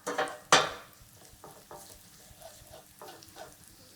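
Minced garlic hits a hot pan for an Italian dish with a sharp sizzle, then softer bursts of frying and stirring scrapes follow, fairly quiet and close with no talk.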